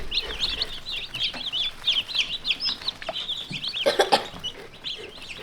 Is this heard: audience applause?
no